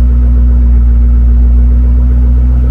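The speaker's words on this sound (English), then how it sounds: "Exhaust sounds pretty good on this thing." A steady, loud low engine rumble from the exhaust of a 2008 Ford Mustang GT convertible, droning evenly throughout with no voices.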